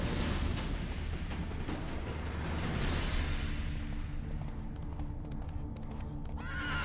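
A horse neighs loudly up close in The Witcher 3 while hooves clop and shuffle, then settles into quieter stamping with a rumbling background.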